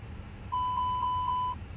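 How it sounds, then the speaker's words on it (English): The APU fire alarm test in a flight simulator game sounds as a steady high electronic alarm tone lasting about a second, pulsing in four or five quick beats, clear and alone over a faint hum. "And we'll do our alarm test."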